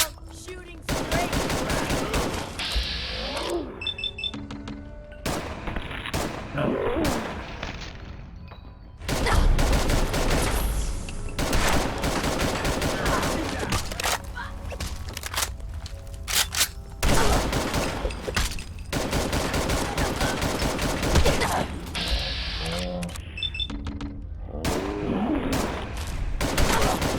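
Dense gunfire in Fallout 4, bursts of rapid shots and weapon blasts rattling almost nonstop for nearly half a minute, loud and close, with game effects mixed in and no talking.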